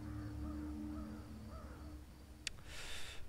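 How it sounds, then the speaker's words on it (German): Several crows cawing in the Thief video game, repeated harsh calls over a low ambient drone, moderately faint, followed by a brief sharp click and a hiss. "Das sind Krähen, eine ganze Schar."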